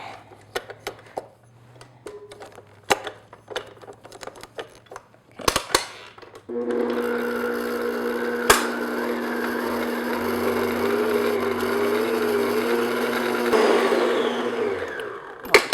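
Electric mixer beating vanilla whoopie pie filling, a steady loud whirring hum that starts abruptly and runs for several seconds after scattered clinks and light handling noises.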